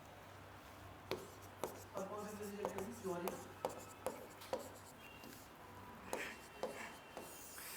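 A marker or chalk taps and scrapes across a board in short, irregular strokes during a geography lecture on peninsular rivers, while someone speaks between and over the writing.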